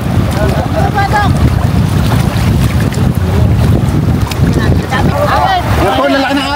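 Loud rushing water and wind noise buffeting a fishing boat at sea off Orion, with big ocean waves surging against the hull and voices shouting over the roar.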